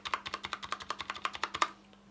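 Repeated key presses on an SPC Gear GK630K Tournament RGB Pudding Edition mechanical keyboard with Kailh Brown switches, including the enter key: about a dozen crisp, evenly spaced clicks in a steady rhythm, close and clear with no talking.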